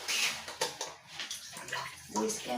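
Shower water running from a tap as a child is bathed, a steady broadband splashing rush with bursts and gurgles, close and fairly loud, with adult voices talking over it.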